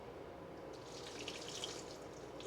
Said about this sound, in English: I'm going to pour the hot heavy cream.